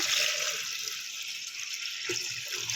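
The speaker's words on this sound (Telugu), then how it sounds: "వాటర్ అనేది మునిగేటట్టు పోసుకోవాలి" Water pours steadily into a pot of eggs to cover them, a constant hissing splash lasting the whole few seconds, with faint clinks underneath.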